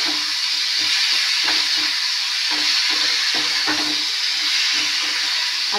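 Food sautés with salt in a hot pan, making a loud, continuous sizzle with repeated scraping knocks of a spatula stirring against the pan.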